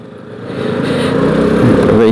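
A Dafra Laser scooter, its variator fitted with 10-gram rollers, engine braking at around 22 km/h, giving a steady mid-pitched engine drone that grows slightly louder and holds close for about two seconds.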